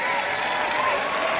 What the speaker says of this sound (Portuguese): Então, palmas para você.